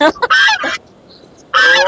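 Roosters at the weekly Monday rooster market in Kunnathur give loud, harsh calls in two bursts, separated by a brief quiet gap.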